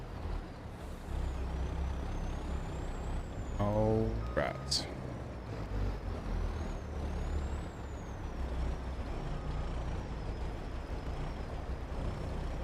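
Truck air brakes in the Farming Simulator 22 video game release a sharp hiss midway through, followed by a rising squeal, over a constant engine drone and faint beeping tones, while a person speaks briefly.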